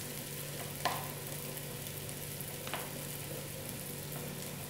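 Tomato sauce with fresh crushed tomato, tomato paste, coriander and parsley being stirred in a pan, a soft, continuous bubbling sizzle with two brief spoon scrapes, no talk.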